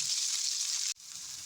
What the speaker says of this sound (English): I've got it frying in a pan right now.